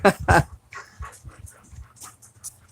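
A dog whimpers and pants close by in a few short bursts, with a loud breathy burst at the start, near beehives outdoors during dog training.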